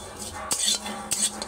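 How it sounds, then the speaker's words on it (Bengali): A spatula clatters against a dry wok as spices are stirred for a rohu fish curry, with two sharp metallic scrapes and clinks over a faint background hiss, close by. "শুকনো কড়াই নেড়ে নেবো"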